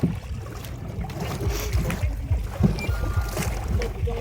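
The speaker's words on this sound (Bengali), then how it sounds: "সবাই হাঁপিয়ে গিয়েছে নৌকা চালাতে চালাতে।" A small boat is rowed through water: rhythmic low splashes and paddle strokes repeat over wind noise, with faint voices in the background.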